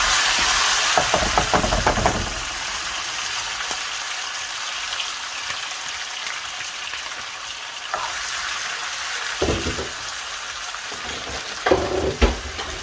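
Tomatoes hit hot oil for a Nigerian pepper stew and sizzle loudly and steadily, with a brief stirring clatter near the start and a few sharp spits and crackles later on.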